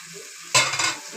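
Food dropped into a hot pan starts frying, a sudden loud sizzle that bursts in and keeps crackling steadily, close by.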